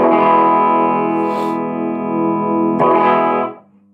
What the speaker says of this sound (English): apologies for the out-of-tune guitar, but that is starting to drive that amp quite hard